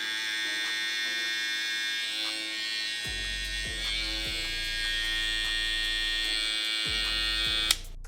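A Babyliss LoPro FXOne hair trimmer hums and buzzes steadily at close range for several seconds, with a faint whine and occasional low thumps as it is handled, ending in a small click.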